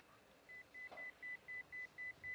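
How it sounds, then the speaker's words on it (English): A pager beeper in a 1976 San Francisco crime drama scene sounds a series of eight short, evenly spaced electronic beeps, thin and fairly quiet, with no voices over them. "That's a beeper."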